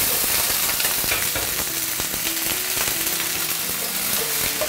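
Onion, carrot and potato chunks being stir-fried in oil in a nonstick pan for curry, with a loud, continuous close-up sizzle and scraping from tossing the pieces.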